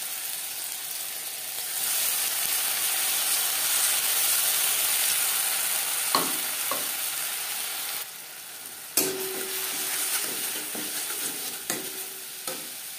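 Onion, ginger, green chili and garlic frying in mustard oil, a bright steady sizzle punctuated by sharp spoon-on-pan clinks and stirring scrapes, close and alone.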